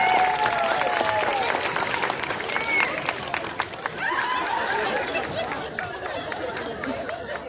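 Audience applause for three Fairy Tail cosplay contestants at an adult cosplay contest during a Bon Odori festival in São Bernardo do Campo, steady clapping mixed with crowd chatter and murmuring voices throughout.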